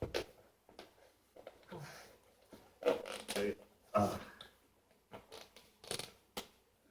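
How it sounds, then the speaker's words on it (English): Short, uneven zipping bursts, the zipper of a TrekPow G22 jump starter case pulled open in several jerky tugs with quiet pauses between, close by. "Not very smooth zipper though."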